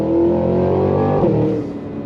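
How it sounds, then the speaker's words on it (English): A 2026 Cadillac Escalade-V in V performance mode accelerates at full throttle, its V8 roaring loud and close with a climbing pitch before easing off near the end. "Hit the V mode, that puts you right into full performance, and then you go on throttle."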